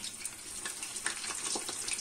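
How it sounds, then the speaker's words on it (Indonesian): Tempeh sizzling in hot oil in a pan, a dense continuous crackle and spatter with scattered pops, close and steady with no talking. "ini minyaknya udah cukup panas, kita masukin tempenya"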